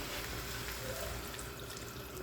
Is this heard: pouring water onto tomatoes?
yes